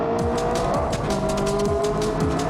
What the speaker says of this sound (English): No, we're doing 100 miles an hour right now through this tunnel.